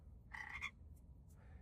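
A single clear, raspy frog croak in a short burst from a Rivian car's Halloween mode sound effects, followed by a couple of fainter clicks against a quiet low hum.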